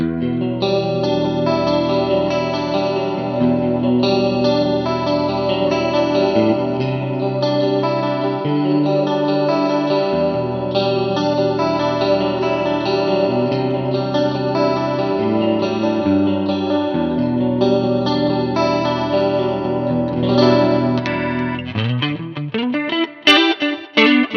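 Clean electric guitar through a Mooer GTRS P800 with a shimmering tri-chorus effect, chords ringing steadily and sustained, played alone without any voices.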